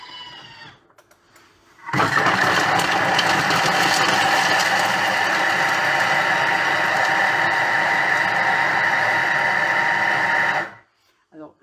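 A Thermomix grinds almonds at speed 6, a loud, steady whirring roar that kicks in abruptly, holds evenly for about nine seconds, then cuts out, with quiet room sound before and after.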